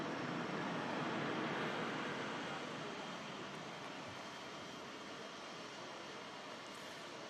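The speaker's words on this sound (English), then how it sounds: "This Ryanair just arriving in from Alicante." A Ryanair jet arriving at Manchester Airport from Alicante, heard as a broad, steady roar that peaks early and then slowly fades, with no voices.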